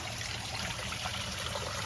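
Steady trickle of water spilling into the reservoir of a homemade aquaponic system, a continuous close splashing wash with no voices.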